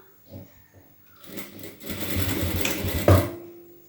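Sewing machine stitching blouse pieces in a tailoring lesson, starting with a few short stutters and then running in a continuous close whirring burst that ends with a slight clunk.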